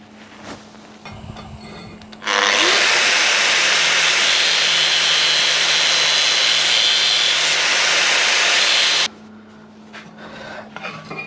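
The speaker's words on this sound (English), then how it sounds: "Now I think I'll turn the welder down to weld it all up." Welding on a Suzuki GS850 motorcycle project: a loud, steady broadband hiss and crackle of the welder runs continuously for about seven seconds, starting and stopping abruptly, with quieter workshop noise before and after.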